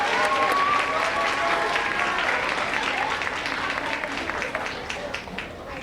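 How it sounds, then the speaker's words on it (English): A crowd of parents and guests at a fifth-grade school promotion ceremony gives sustained, loud applause, dense steady clapping that holds for several seconds and tapers slightly at the end. "Give them a big round of applause."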